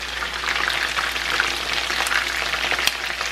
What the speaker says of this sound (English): See, the grease is splattering everywhere.